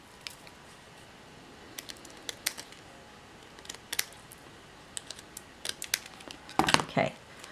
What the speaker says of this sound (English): We're going to cut this bottom edge off.